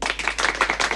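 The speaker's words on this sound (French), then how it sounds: "quand je vais dire son nom, vous allez applaudir" A small group of people applauding on cue for a woman named Valentine, a brisk, close burst of clapping with tight irregular hand slaps for about a second.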